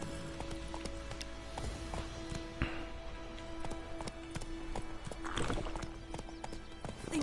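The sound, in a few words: horse Roach hooves clip-clopping in Witcher 3 video game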